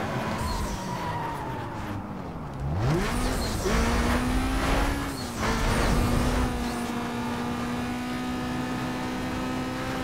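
A car engine in the racing game Need for Speed Most Wanted revs high, drops sharply as it shifts gear, then climbs again and holds a steady loud drone with tyre and road noise.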